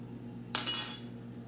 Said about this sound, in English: I'm going to put some sugar in there